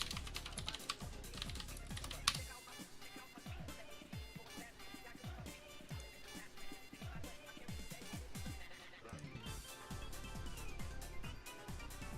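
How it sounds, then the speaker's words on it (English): Computer keyboard typing during a malware analysis prep stream, rapid continuous key clicks throughout over background music, steady and fairly loud without pauses. "I hope you guys could hear the keyboard when I type"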